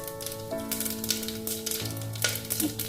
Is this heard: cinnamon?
yes